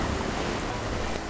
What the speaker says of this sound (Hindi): हल्की बारिश हो रही थी